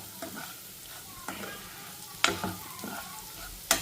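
Bitter gourd curry is stirred in a frying pan, giving a few soft scrapes and a couple of sharper clacks over a low, steady sizzle, quiet and close, with no voices.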